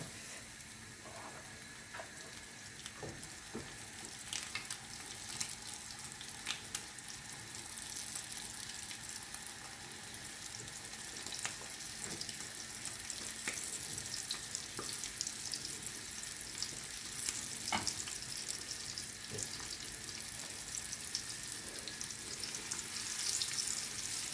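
Steady sizzling of fish frying in a pan, a continuous crackling hiss with scattered pops, close and moderately loud, no voices.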